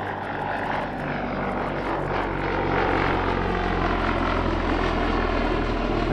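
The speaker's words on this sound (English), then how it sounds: "Certainly not a fighter, but an aircraft of comparable era, the Lysander" A Westland Lysander vintage aircraft drones overhead at an airshow, its propeller engine a steady, loud throbbing roar that swells slightly as it passes, with no voices.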